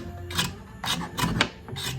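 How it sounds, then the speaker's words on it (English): A hobby knife shaves along the edge of a model starship deck in short scraping strokes, four or five close rasping passes with brief pauses between them. "I just took a hobby knife and I started to just shave along the edge"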